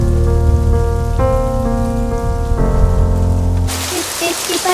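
Heavy rain in a film scene, a constant hiss of drops under a sustained tonal music score, then the downpour alone and louder for the final second.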